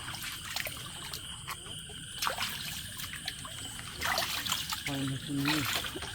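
Water trickles and splashes close by as someone wades through shallows at night on a fishing trip, a steady low wash with brief louder stirrings and a short voice-like sound near the end.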